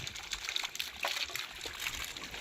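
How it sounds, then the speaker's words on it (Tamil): Water trickles weakly from a dry borewell pipe whose pressure has dropped, a steady, faint hissing splash with no talk over it. "இப்போ பார்த்திங்கன்னா தண்ணியோட லெவல் ப்ரெஷர் குறைஞ்சிருச்சு"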